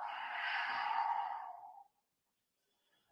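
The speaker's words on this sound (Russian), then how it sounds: "Дыхание уджай. Выдох. Шумно дышим." A single noisy ujjayi exhale during a hatha yoga class, a close, hissing breath lasting nearly two seconds and fading out, followed by near silence.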